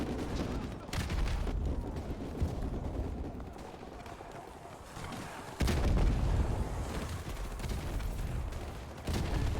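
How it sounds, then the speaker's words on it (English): AKM rifle gunfire in Call of Duty 4, booming shots and bursts over dense battlefield noise, with someone talking throughout. "I think this is an AKM."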